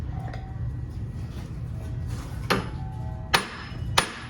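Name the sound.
hammer blows on rusty CV axle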